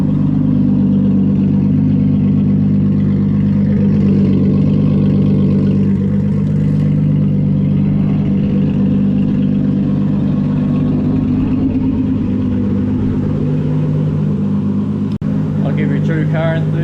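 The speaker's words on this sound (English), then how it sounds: "True car enthusiast, got to do a few revs, eh Ruben?" Loud engine of a Nissan R32 drift car with raw cams, idling with a lumpy, rough burble and a few blips of revving up close, with people talking nearby over it.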